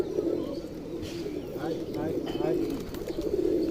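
A pigeon perched near people, feeding warily, gives soft low cooing over a steady background murmur.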